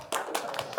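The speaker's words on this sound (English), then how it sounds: "some of you applauded to that one on camera" Scattered clapping from a small conference audience at a game show, a few sparse, uneven hand claps, fairly faint and close, spaced out rather than a full round of applause.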